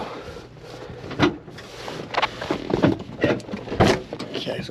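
Someone tries to open the locked door of a 1972 Chevy Chevelle, making a series of muffled clunks and handle rattles at close range.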